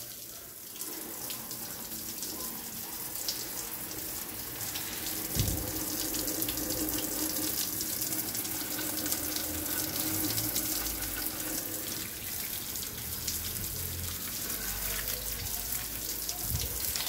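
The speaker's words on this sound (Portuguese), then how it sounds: "Essa parte aqui que eu falei que eu molho com essa mangueira, que é a verde, ela não tem biquinho." A green garden hose with no nozzle, a finger over its end to soften the flow, generously watering foliage plants, cacti and succulents: a steady, continuous rush and splatter of water on leaves that lasts throughout.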